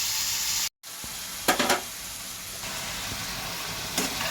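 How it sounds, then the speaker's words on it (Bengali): Small shrimp coated in salt and turmeric frying in oil: a continuous close sizzle with a brief cut-out early on and a few stirring scrapes and spatters, moderately loud, no talking. "আমি এতে নুন হলুদ মাখিয়ে ভাজা বসিয়েছি।"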